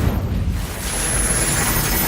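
A fiery Incendio spell cast in the Hogwarts Legacy video game, a dense roaring whoosh with a burst-like onset that swells and sustains steadily for about two seconds, loud and close with no voices.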